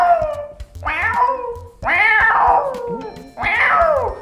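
Someone mimics a cat meowing, three loud, drawn-out meows in a row, close up and sliding downward in pitch.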